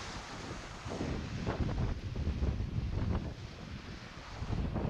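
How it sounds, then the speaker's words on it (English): Strong outdoor wind buffeting a microphone at a camp where a drone is being flown, a steady broadband rushing roar with gusts swelling and easing, no voices. "It is so windy outside."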